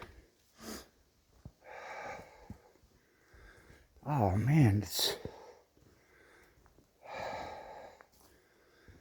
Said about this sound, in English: heavy breathing. It's bloody annoying.